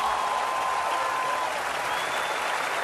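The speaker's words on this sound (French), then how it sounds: "Écoutez les applaudissements sur le Champ de Mars." Dense, steady applause from a large open-air crowd on the Champ de Mars in Paris at the close of a piano finale during an outdoor Bastille Day concert, sustained and even throughout.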